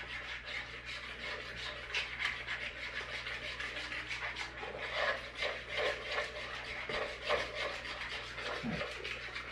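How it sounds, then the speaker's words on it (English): Casserole ingredients stirred in a bowl, giving a continuous close scraping, rubbing churn with rhythmic strokes throughout, no talking. "So we're just giving this a stir"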